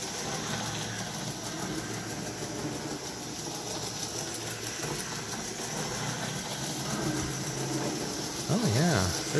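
A model train runs at half throttle on rubber roadbed, giving a steady, continuous mechanical hum and whir with a faint rhythmic clicking. It holds throughout, and a brief warbling tone rises near the end.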